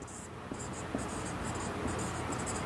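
Chalk or marker scratching on a board during a cartography lesson, with steady short strokes and taps close by over a constant background hiss.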